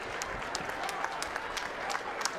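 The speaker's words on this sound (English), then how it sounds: "a round of applause for both of the fighters in this ring" Crowd in a boxing arena applauds both fighters after a ten-round championship bout, a continuous wash of clapping with a few sharper claps standing out, moderately distant.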